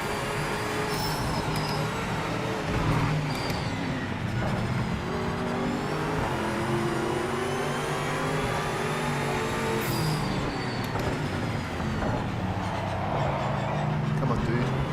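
GTE race car in Project Motor Racing on cold tires, its engine droning steadily and loud throughout with shifting pitch as it revs and changes gear.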